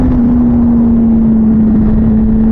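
A motorcycle fitted with a Domino XM2 quick-action throttle and Translogic QSXI quick shifter runs loud and close with a steady engine drone, a strong sustained tone holding level throughout with no talking.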